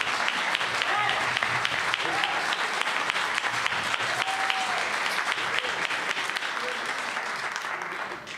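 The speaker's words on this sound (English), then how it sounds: "Give the candidate seeking district attorney re-election a hand of applause." A community forum audience applauds a district attorney candidate seeking re-election, sustained dense clapping from a crowd that holds steady for several seconds and tapers slightly near the end.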